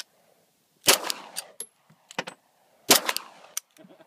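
Two sharp Glock pistol shots fired at an outdoor target, the first near 0.9 s and the second near 2.9 s, each loud and close with a short decaying tail, separated by faint clicks and handling noise.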